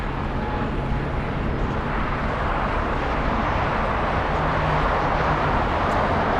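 A Copa Airlines jet with a colorful Panamanian Special Olympics livery at Los Angeles International Airport, a steady broad engine roar that holds constant throughout, moderately loud and somewhat distant, with no voices.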